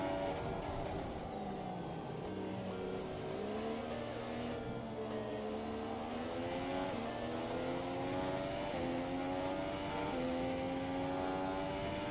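Formula racing car lapping the China circuit in an F1 game on Xbox, engine whine rising and falling through gear shifts and corners, continuous and steady with no talk.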